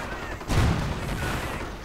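Heavy gunfire and booming blasts in a World War II strategy video game battle between Panzers and a Hellcat, a dense, continuous wash of battle noise with a stronger impact near the middle.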